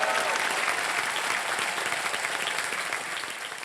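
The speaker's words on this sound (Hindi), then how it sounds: "जोरदार तालियां." Loud, sustained applause from a studio audience on a televised quiz show, a dense wash of clapping that holds steady for several seconds and eases slightly at the end.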